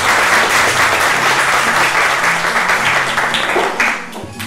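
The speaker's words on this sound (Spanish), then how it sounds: "Regalémosle un caluroso aplauso" A large audience at a tribute ceremony gives a professor warm, sustained applause, loud and dense, continuing steadily before tapering slightly near the end.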